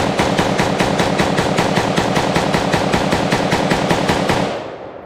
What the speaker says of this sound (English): So, here's another range clip from last year. All right, we're up. Try the T91 with the other mag.